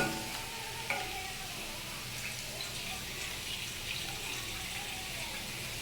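Whole chillies crackle in hot oil in a pan, a steady, moderately loud sizzle with a small clank near the start, close up and without any speech.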